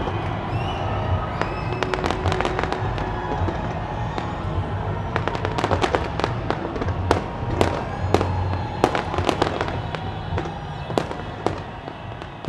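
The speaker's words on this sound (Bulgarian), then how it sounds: "10-минутна многоцветна заря с илюминации и фойерверки от телевизионната кула в града отбеляза празничното събитие." A ten-minute New Year 2018 fireworks display launches from the TV tower in Auckland, New Zealand, with rapid sharp bangs and crackles bursting over a constant roar of a distant crowd.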